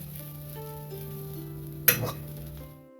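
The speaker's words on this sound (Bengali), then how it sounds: "এই যে গুঁড়ো করা মশলাটা দিয়ে দেবো ধনে জিরে শুকনো লঙ্কা মৌরি তারপরে এটা মিশিয়ে নেব" Green pea kachori filling being stirred with ground coriander, cumin, dried chilli and fennel in a pan: a steady low background gives way to a brief loud scrape-and-clatter burst near the end.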